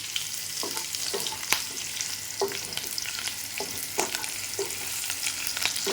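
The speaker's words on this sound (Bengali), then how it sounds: "পেঁয়াজটা দিয়ে নিই এত জোরে ফুটছে কেন বুঝতে পারছি না" Onion fries in vigorously bubbling oil in a pan, a constant crackling sizzle punctuated by repeated spatula scrapes and taps at an irregular rhythm, moderately quiet and without talk.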